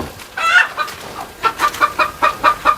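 Native country chickens cluck close by on a poultry farm, one loud squawk followed by a run of rhythmic, repeated clucks.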